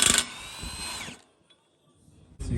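Power tool, likely an impact driver, on a 32 mm socket spinning the rear axle nut off a 2015-2023 Ford Mustang, one whining burst about a second long, close, then quiet before another short burst starts.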